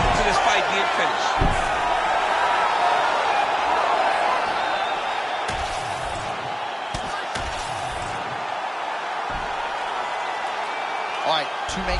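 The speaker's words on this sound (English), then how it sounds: "Massive ground and pound strike." Ground and pound strikes in a UFC video game land as sharp slaps and thuds scattered over an arena crowd roar, mixed under steady commentary.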